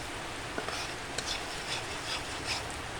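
Homemade ghee simmering in a pan while being stirred, a faint, soft bubbling sizzle with a few light scraping clicks from the spoon, fairly quiet and steady.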